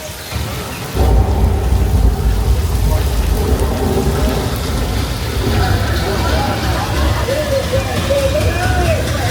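Simulated rain and thunder created as a weather special effect on a Universal Studios Hollywood back-lot tour, a dense continuous downpour with rumbling low thunder starting abruptly after a second, with a voice faintly heard beneath the roar.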